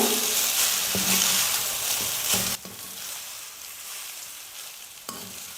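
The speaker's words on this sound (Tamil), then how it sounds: "சேமியா சேர்த்ததுக்கப்புறமா ஸ்டவ்வை மீடியம் ஃப்ளேமில் வச்சுட்டு குறைஞ்சது நாலுலேருந்து அஞ்சு நிமிஷமாவது குக் பண்ணணும்" Vermicelli upma cooks on a medium flame, sizzling continuously in the pan, with a couple of stirring scrapes before the frying quiets partway through.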